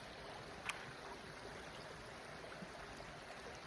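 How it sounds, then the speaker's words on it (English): Water flowing in a stream along a hiking trail, a steady, faint rushing and trickling wash that continues without a break, with no voices over it. "Hopefully you guys can hear the water"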